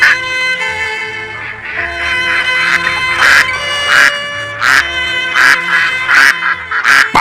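Cartoon ducks in a Bengali animated fairy tale, loud repeated quacking in bursts over a sustained musical tone, several calls close together.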